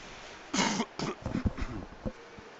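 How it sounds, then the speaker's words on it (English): A single person coughs and clears their throat a few times at moderate volume, with short bursts spaced irregularly, heard at a women's U18 hockey game between the Capitals and Ice. "Dealing with a stubborn cough the last little bit."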